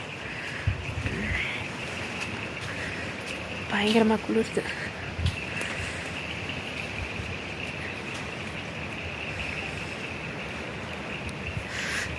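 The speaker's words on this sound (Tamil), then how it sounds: "கொஞ்சமாக காற்று நல்லா அடிக்குது, காற்று இருக்குது அண்டு மழையும் பெய்யுது." Wind and rain at night in Kodaikanal make a steady, even hiss that lasts the whole time, with insects faintly in the background and a voice speaking briefly near the middle.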